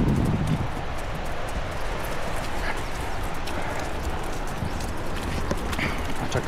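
Horse hooves clip-clop steadily along a trail in the Georgian mountains, a skittish, wild horse carrying a nervous rider, under constant rustling outdoor noise.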